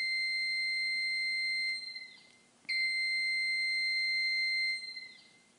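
A high electronic alarm tone from an Edwards 55-ton ironworker's CNC backgauge punch alarm sounds in two long steady beeps with a brief gap between, clear and sustained like a machine buzzer.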